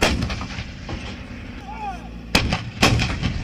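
Artillery guns fire in repeated booms, two sharp loud blasts close by over a rumbling battlefield background.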